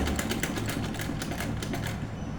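A sewing machine stitches fabric up close, its needle hammering in a fast, even mechanical rhythm that runs steadily throughout, with no talking.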